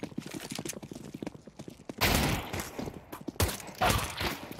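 Counter-Strike 2 gameplay with two loud bursts of gunfire after a stretch of quieter rapid clicks and footsteps, with no talking.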